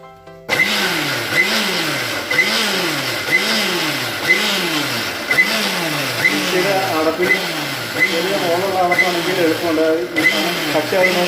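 A mixer grinder runs loud and close while sunflower oil is poured in, its motor whirring with a regular pulsing rhythm roughly every second, steady after a sudden start.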